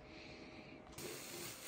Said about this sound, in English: I got the best smelling room spray from Home Goods